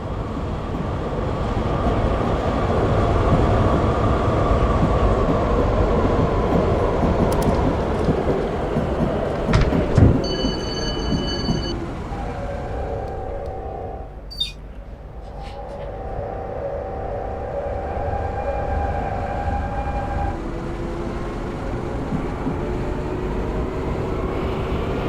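Tram running in a Frankfurt tram simulator game, with a continuous low rumble of rolling wheels and motor that swells and eases, broken by brief metallic clicks and a short tonal chime partway through.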